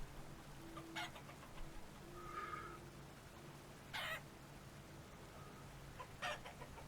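Minecraft chickens on a survival multiplayer server give a few faint, scattered clucks and short squawks over a low steady hum, spaced irregularly, with no talking.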